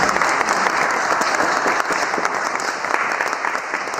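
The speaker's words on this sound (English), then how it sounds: "A round of applause for our panelists." An audience at a panel debate on God and life's meaning gives a steady round of applause, dense clapping held at an even level throughout with no voices over it.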